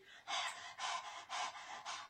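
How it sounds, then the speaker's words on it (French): A puppet wolf in a Three Little Pigs puppet show pants hard after running, four rhythmic breathy gasps close to the listener, with no words. "Le loup arrive petit à petit, très essoufflé,"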